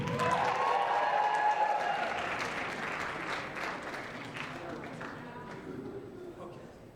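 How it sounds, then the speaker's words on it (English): An audience applauds warmly for a group of performers that includes a ukulele player, a dense round of clapping at full strength that gradually thins and fades over several seconds. "I want you to give them all a warm Aggie round of applause."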